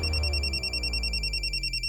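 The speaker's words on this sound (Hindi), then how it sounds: "लो फोन लो।" A telephone rings in a Hindi crime drama scene, an electronic trill pulsing rapidly and steadily, loud and alone over a low hum.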